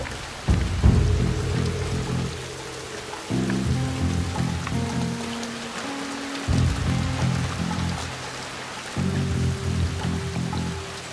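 Steady rain falls in the video game Shadow Tactics: Blades of the Shogun, a constant hiss running under low sustained musical tones that swell and drop in sections.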